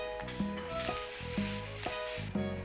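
Luffa with egg stir-fried in a wok: repeated scraping strokes of a spatula against the pan, roughly every half second, over a soft sizzle, close and clear, with no talking.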